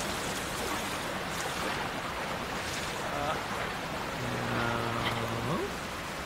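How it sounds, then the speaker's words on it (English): Waterfall in the video game Zelda Tears of the Kingdom, a continuous rushing wash of water that holds throughout at moderate level, with a brief tonal game chime near the end. "there's a waterfall literally right here"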